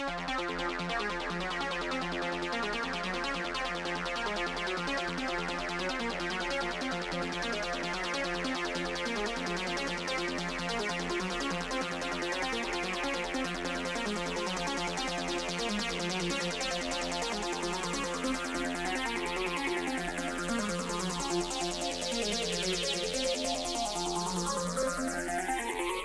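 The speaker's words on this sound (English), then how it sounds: "This is just like a basic acid lead idea." Plucky acid lead arpeggio built from saw waves, a dense, bright synth pattern running steadily throughout with filter sweeps rising and falling near the end, no voices.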